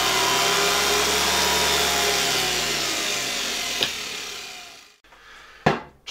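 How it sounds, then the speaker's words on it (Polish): A Zelmer type 300 vacuum cleaner motor runs loud and steady with a broad whooshing roar of blown air, then winds down around the five-second mark, followed by a couple of sharp knocks and a brief restart surge. "Czuję na twarzy całkiem nieźle, jak dmucha powietrze z tego silnika"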